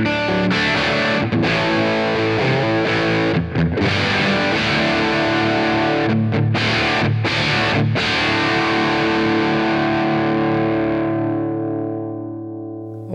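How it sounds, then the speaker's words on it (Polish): A guitar played through the Taurus SH7 Apogee floor amplifier with heavy distortion, loud and sustained. Chords ring with a thick, saturated crunch over a long stretch and fade out at the end. "ten przester tak średnio mi się podoba, szczerze mówiąc, jest taki bardzo siarczysty"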